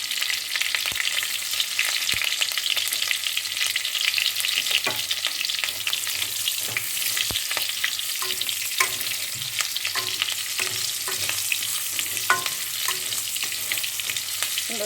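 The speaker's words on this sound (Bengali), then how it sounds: "এবার আমি কাঁচা লঙ্কা কুচে সেটা দিয়ে দিলাম" Chopped green chillies fry in prawn-frying oil with nigella seeds, making a steady, bright sizzle with scattered pops and crackles, close and continuous, no voices.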